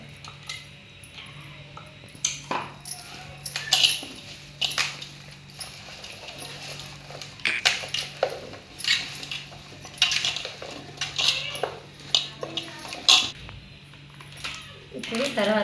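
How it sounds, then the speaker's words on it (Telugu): Quiet clinks and scrapes of a utensil against a pot as garlic paste is stirred into Telangana-style mango pickle, irregular taps and knocks over a low hum, with a voice speaking at times. "కాబట్టి ఎల్లిపాయల ముద్ద కలుపుతాను."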